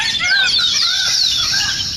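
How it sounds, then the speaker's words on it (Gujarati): Loud, close bird calls ring out after rain on a farm, a string of high, wavering cries rising and falling in quick succession against a faint background. "અવાજ છે ને તમને સંભળાતો હશે મોરલા કેવા બોલે છે"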